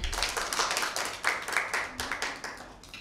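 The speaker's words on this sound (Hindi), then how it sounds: "टीम बी के लिए भरपूर तालियां" A small group claps for a team at a school Bible quiz, with distinct, fairly quick hand claps in an uneven rhythm, moderately faint and slightly distant, with no voices.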